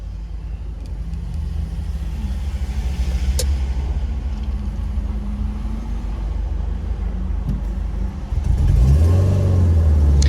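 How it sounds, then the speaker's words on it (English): A Subaru Legacy Spec B engine with a small exhaust leak idles with a steady low rumble and faint ticking, then revs up louder near the end. "Sounds like maybe there's a small exhaust leak as well."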